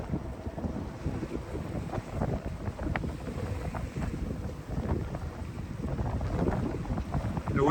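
Steady, roaring wind buffets the microphone on a small boat under solo sail, with rushing water and low rumble continuing throughout and growing slightly stronger toward the end.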